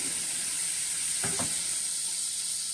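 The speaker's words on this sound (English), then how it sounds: "we're just going to go ahead and throw in our sausage that we have cut up" Cut-up sausage sizzles steadily in avocado oil in a skillet, a constant bright hiss with a brief stirring scrape near the middle.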